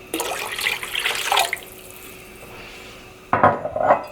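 Water poured into a soup pot in a home kitchen, a short splashing pour followed by a second burst a moment later, close and fairly quiet with no talk.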